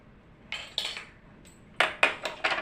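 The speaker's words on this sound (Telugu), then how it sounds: "బాండి పెట్టుకొని నూనె వేసుకున్నారండి." Metal clanks and clinks as a kadai (wok) is set on the stove and handled for cooking, about six bright metallic knocks in an irregular rhythm, close and fairly loud with no talk.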